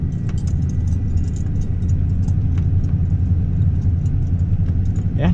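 A Chevrolet K1500 pickup on 420 tires climbs a wet, damp grass hill, its engine a steady, close, low rumble that holds throughout with faint rattles on top, and no talking.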